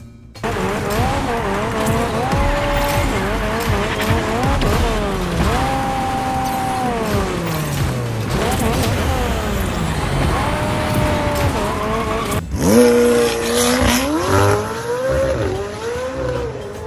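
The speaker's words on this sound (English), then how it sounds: "The engine sound though? Sounds boring, not that faithful to the real thing." A steady, synthetic-sounding car engine in Fortnite drones and rises in pitch through several gear shifts, with a sudden louder change near the end and no voices.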